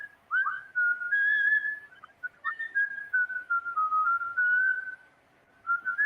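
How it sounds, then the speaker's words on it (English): A person whistles alone in a quiet space, a wandering, tuneless melody of sustained notes broken by short pauses, close and clear. "Opens up with somebody whistling"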